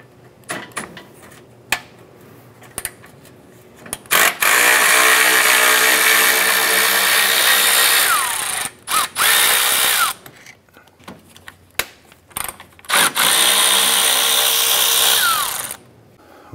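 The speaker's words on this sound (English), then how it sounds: "Using a 10 millimeter socket, we're gonna go ahead and remove our lower fan bolts here." A power tool with a 10 mm socket spins out the lower radiator fan bolts on a 2004-2008 Acura TL. The whirring comes in loud sustained runs, broken by short pauses and clicks.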